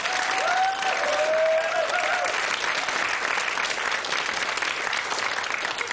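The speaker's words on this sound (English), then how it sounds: "A round of applause, please" A game show studio audience claps in a steady, dense burst of applause lasting several seconds, loud and close, with no talking over it.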